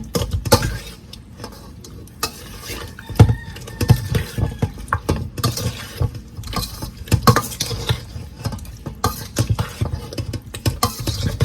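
Seasoned turkey wings with Szechuan seasoning are mixed together in a pot, making irregular soft knocks, wet slaps and rustles in uneven bursts at close range, with no talking.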